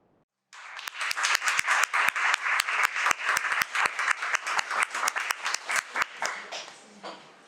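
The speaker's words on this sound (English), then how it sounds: "Please join in a celebratory applause" Celebratory applause at an artist award ceremony, starting abruptly after silence as a close, rhythmic clapping with distinct sharp claps over a lighter crowd wash, then tapering off at the end.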